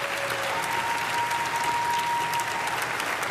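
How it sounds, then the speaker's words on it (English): Audience at a celebrity comedy roast of Donald Trump breaking into a round of applause; dense, steady clapping from a large crowd fills the space, with a faint tone running underneath. "Give her a round of applause."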